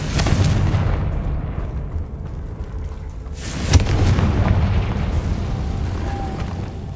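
Confringo spell blasts in Hogwarts Legacy: deep rumbling explosions with a sharp burst near the start and another heavy boom midway, followed by a rolling low roar, loud and close.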